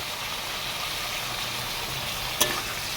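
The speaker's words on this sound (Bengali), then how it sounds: "এবার আমি ভালোভাবে নেড়ে নিচ্ছি যাতে ভাজাটা ভালোভাবে হয়ে যায়" Ground cumin, ginger paste and spices frying in a pan while being stirred, a constant close sizzle with one sharp clink of the utensil near the end.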